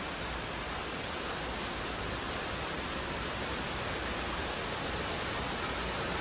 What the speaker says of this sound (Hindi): सिर्फ बारिश हो रही है